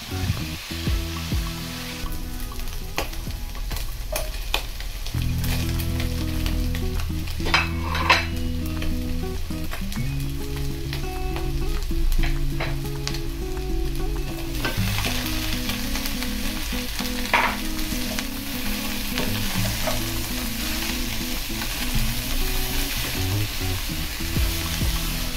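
Chicken and vegetables for pancit canton are stir-fried in a hot pan, a loud continuous sizzle with stirring scrapes and occasional clinks of a utensil, close and steady throughout, no talking.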